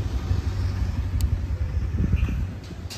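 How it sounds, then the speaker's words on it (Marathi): A vehicle engine at a workshop gives a steady, close, low rumble that continues for the whole stretch, with light background noise and no talking. "गाडीचा आवाज निघतोय वाटत"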